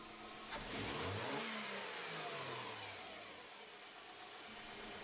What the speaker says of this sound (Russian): а затем резкую